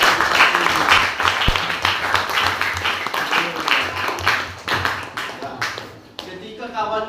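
A sixth-grade class claps together in a rhythmic pattern of sharp, close claps, mixed with children's voices and a teacher talking over them before the clapping fades.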